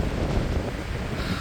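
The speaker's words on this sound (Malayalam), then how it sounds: "കാറ്റെന്ന് പറഞ്ഞാൽ ഇമ്മാതിരി കാറ്റ്" Strong wind buffets a hilltop roughly 3000 feet up, a steady low rushing roar across the microphone, fairly quiet and continuous with no voices.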